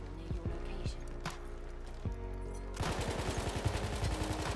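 A Hellriegel submachine gun fires in Battlefield 1 with rapid automatic bursts, sparse shots at first and then a dense continuous stream of gunfire, with faint game ambience in the background.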